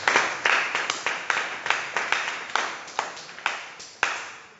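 An audience at a book launch applauds in a sparse, steady pattern of distinct claps spaced evenly apart, moderately quiet, with no talking over them.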